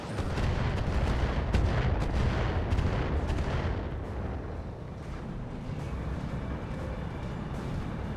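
A Decimator mech in BattleTech unleashes a weapons salvo, a dense rumbling barrage of overlapping booms and impacts, loud at first and then fading to a lower continuous roar.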